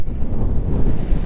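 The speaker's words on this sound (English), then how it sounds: "Oh, it's windy here." Strong wind blowing on a beach in Nha Trang, Vietnam, buffeting the microphone with a loud, continuous low rumble and gusty flutter.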